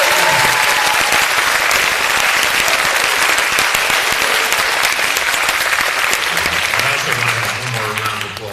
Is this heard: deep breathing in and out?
no